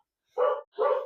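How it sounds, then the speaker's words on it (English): A single dog gives two sharp, close barks in quick succession, each short and loud against an otherwise quiet background. "I'm sorry if you can hear that, my dog is barking."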